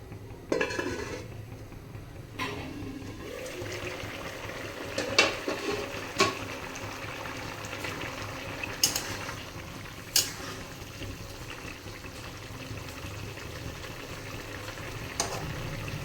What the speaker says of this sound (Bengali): আলু আর ফুলকপিটা সিদ্ধ হওয়ার জন্য দিয়ে দেবো জল জল দেওয়ার পর মিশিয়ে দিয়ে ঢাকনা দিয়ে দেবো